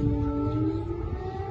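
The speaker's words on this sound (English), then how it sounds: "So you can hear the sirens of the airstrike alert." A steady, droning air raid alert siren wail holds a constant pitch throughout in Lviv, Ukraine, sounding fairly distant with faint low rumble underneath and no talking.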